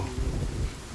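Heavy rain pours with a low thunder rumble, a dense steady wash at moderate loudness.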